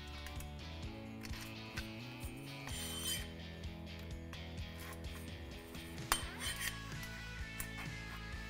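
Metallic clinks and ratcheting as bolts and nuts are tightened on the steel hardware of a Lifetime climbing tower, irregular and close, over a steady tonal background.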